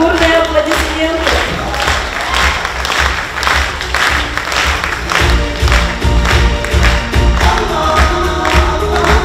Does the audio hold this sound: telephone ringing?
no